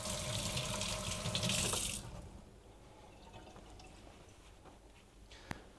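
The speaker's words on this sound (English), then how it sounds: "I'm just going to wash my hands." A kitchen tap runs loudly as hands are washed beneath it for about two seconds, then the flow cuts off, leaving faint room noise with small drips and one sharp click near the end.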